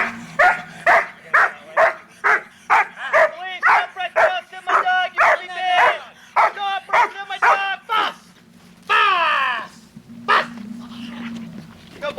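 A prison K-9 police dog barks repeatedly during a handler training exercise, loud close rhythmic barks with some yelping whines, while people talk over and between them.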